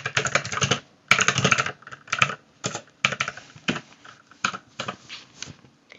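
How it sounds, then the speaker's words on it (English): Someone types on a computer keyboard in quick close bursts of clicking keys, separated by brief pauses, with no talking. "So, begin by typing something."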